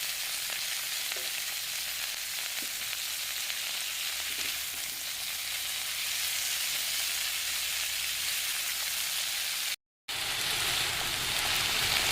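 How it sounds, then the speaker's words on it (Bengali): Prawns frying in a pan with chopped green chilli and red amaranth greens, a dense, even sizzle like steady rain that runs on without talk and breaks off briefly near the end. "এবার এর মধ্যে লঙ্কা কুচিটা দিয়ে দেবো আর ধুয়ে রাখা শাকটা এর মধ্যে দিয়ে দেবো"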